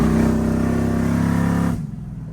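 An old car engine over forty years old running on nitrous, a loud harmonic revving roar held steadily close up before it cuts off abruptly into a lower idle rumble.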